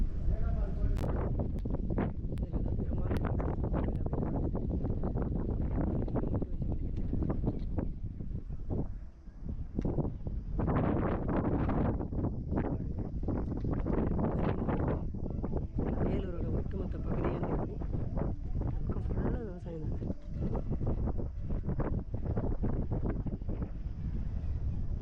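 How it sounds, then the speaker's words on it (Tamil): Strong wind buffets a handheld camera microphone outdoors by a river near Vellore, Tamil Nadu, making a loud, continuous low rumble with gusty bursts that persists through the whole stretch, with voices faintly mixed in. "காற்று நல்லா அடிக்குதுப்பா. காற்று தேர்தா கேமரா."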